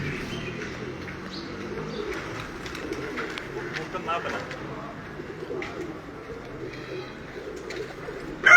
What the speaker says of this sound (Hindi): बहुत ही आउटस्टैंडिंग कबूतर हैं